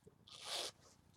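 A zipper on a Zara men's zip sweater jacket is pulled in one quick, faint, close-up zip lasting under half a second, set against a quiet room.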